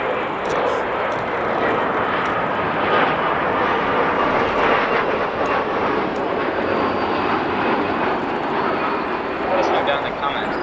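Near O'Hare airport an Air Canada airliner passes with a sustained, loud, dense engine roar that holds steady for the whole stretch, while a voice speaks over it.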